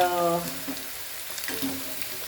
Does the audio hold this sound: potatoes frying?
yes